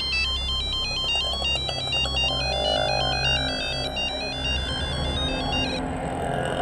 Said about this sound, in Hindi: अल्लाह, किसका फोन आ गया जी अभी?